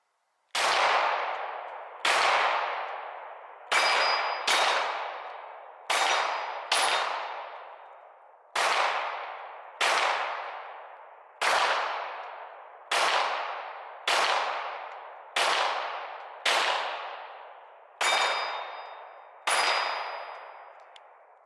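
M17 pistol rounds striking steel targets at an outdoor range: about fifteen loud, ringing metallic clangs at an uneven pace, each decaying slowly into silence, with no talking.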